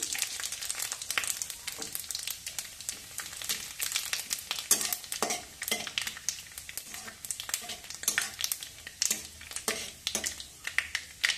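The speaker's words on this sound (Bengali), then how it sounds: "এবার তেল গরম হয়ে গেলে দেবো 5 ফোড়ন, সামান্য গোটা জিরে" Panch phoron and whole cumin seeds hit hot oil and sizzle with a busy, continuous crackle full of sharp pops. The sound is close and steady for the whole stretch.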